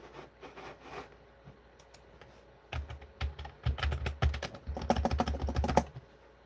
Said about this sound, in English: Keyboard's going crazy.